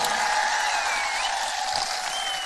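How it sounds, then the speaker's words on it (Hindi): An audience at a political rally in Tripura claps together in a sustained, dense wash of applause, steady and fairly loud across the whole moment with no talk on top. "आप लोग सब अपने आप को ताली मारिए"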